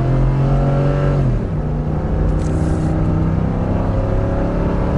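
A 2019 Ford F250 Super Duty truck accelerates up a hill, heard from inside the cab as a loud, steady engine drone that dips briefly as the gears shift early on, then pulls on evenly with no talking.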